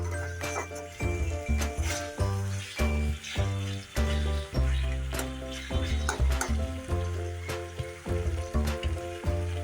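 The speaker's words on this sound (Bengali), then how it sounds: "আমার মশলাটা কষা হয়ে গেছে" Masala sizzling loudly in a pan for a winter vegetable khichuri, with steady frying hiss broken by repeated clanks and scrapes of a stirring utensil at an uneven rhythm, close and continuous, with no voices.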